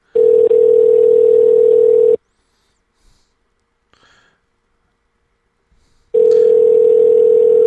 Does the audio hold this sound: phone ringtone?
yes